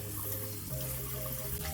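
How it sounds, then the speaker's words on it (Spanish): Cold tap water runs over drained noodles for japchae in a strainer, a steady close splashing stream with a faint hum beneath, brief and uninterrupted. "las vamos a enfriar con agua fría"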